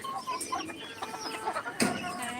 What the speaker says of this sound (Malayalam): ഇത് ഫാൻസി കോഴി